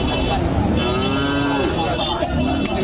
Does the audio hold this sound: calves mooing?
yes